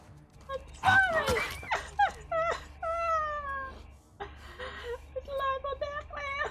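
A dog whimpers and yelps in The Last of Us Part 2 in a string of high, wavering cries over a low hum, close and fairly loud.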